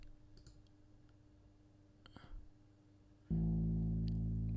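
Computer mouse clicks in music software while a piano sound is searched for: a few faint, sparse clicks, followed by a loud, sustained piano tone that suddenly fills the rest.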